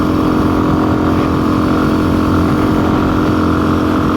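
A motorcycle engine drones steadily and loudly while riding toward the hills, a constant, even running note with no pauses and no voices.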